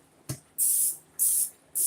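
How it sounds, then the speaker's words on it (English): Three short bursts of a cooking spray can hiss close up, evenly spaced, after a single dull tap. "I always spray, cooking spray,"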